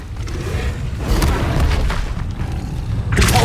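Levioso spell cast in Hogwarts Legacy, a loud magical burst with deep booming low end and a whooshing surge, followed by another sharp flare near the end.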